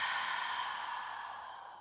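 A slow, soft exhale during gentle guided yoga breathing, a single breathy sigh that fades gradually, heard close and quiet.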